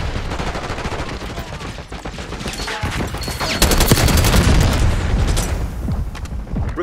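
Sniper gunfire in Call of Duty Black Ops 6 mixes with dense, loud battle noise: rapid gunshot bursts, booms and crackling fire layered over one another throughout.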